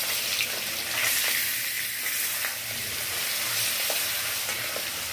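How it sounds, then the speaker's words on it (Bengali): Pieces of royal katla fish frying one by one in oil, a continuous hissing sizzle with light scraping and stirring sounds throughout, steady and close, no talking. "একটা একটা করে সুন্দর করে মাছ আমি এখানে ভেজে নিচ্ছি"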